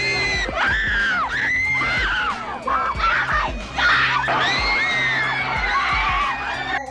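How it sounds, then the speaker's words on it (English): A crowd of women shrieking and screaming with excitement, a loud dense wave of overlapping high squeals and whoops sustained throughout, used as a sound effect. "you just heard every woman in America and probably half of England just scream"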